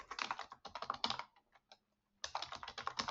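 Code comment typed on a computer keyboard in quick bursts of close, crisp key clicks, a short pause in the middle, then another rapid run of keystrokes.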